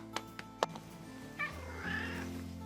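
A cat gives a drawn-out, complaining meow, close by, after a few soft taps and rustles.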